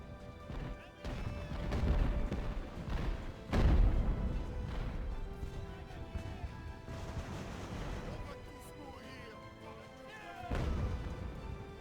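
Heavy booms of mortar and artillery fire in a siege battle in Ultimate Admiral: Age of Sail, several deep thuds scattered over continuous battle noise and music, with a voice talking over it.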